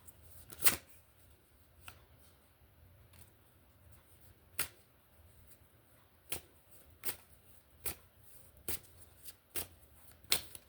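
Tarot cards being shuffled, with a run of short, crisp riffling snaps and flicks spread irregularly through the quiet, close and fairly soft.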